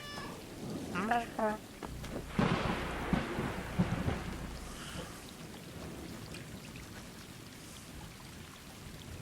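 Rain and thunder on a night street in the video game Stray, with a low rumble and steady rainfall under a few short cat meows early on, the storm settling into a soft, even patter.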